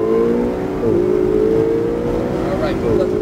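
A Ferrari 488 GTB accelerates on a track, its loud engine rising in pitch and dipping at quick gear changes.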